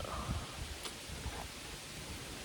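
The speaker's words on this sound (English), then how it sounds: "this is gonna be the annoying thing about it being a windy day" Wind blows outdoors on a windy day, a broad rushing gust buffeting the microphone with rustling noise, close, loud and steady for a few seconds.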